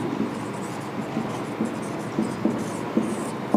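Writing by hand with chalk or pen on a board during a class-ten social science lesson, a steady scratching with small repeated taps as strokes begin, close and moderately loud, with no speech.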